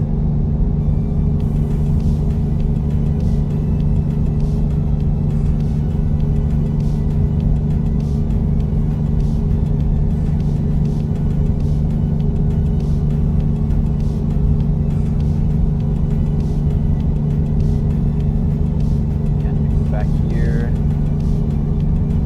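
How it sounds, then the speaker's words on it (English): Steady, loud engine rumble and road drone from a 2014 Volvo truck driving in American Truck Simulator, continuous throughout with a faint higher whine near the end. "I'm driving a Volvo. In game and in real life, kind of."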